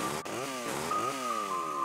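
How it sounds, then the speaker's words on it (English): Chainsaw revving in GTA Vice City, a buzzing motor that rises and falls in pitch over a couple of seconds with no talking. "we're just gonna use the chainsaw"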